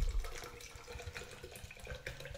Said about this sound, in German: So, jetzt habe ich mir nochmal mein Wasser gemacht hier.